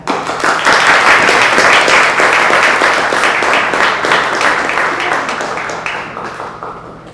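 An audience bursts into loud, dense applause to welcome speaker Inga Bostad to a lecture, the clapping sustained and close before gradually thinning and fading toward the end.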